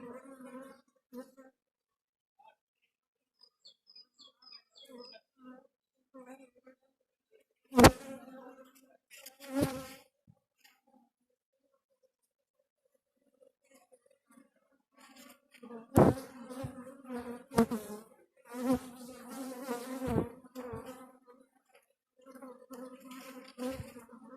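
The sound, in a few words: honeybees buzzing during beehive inspection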